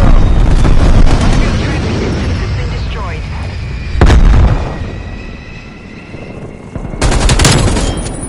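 Strafe run explosions and heavy gunfire roar in Call of Duty: Black Ops Cold War, loud booming blasts in two or three bursts over continuous battle rumble, with voices talking amid the chaos.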